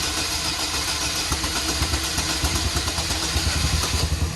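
An engine turns over on the starter with the throttle held wide open, a continuous rhythmic cranking churn that grows more pulsed and uneven toward the end as it begins to catch, heard alone at moderate level.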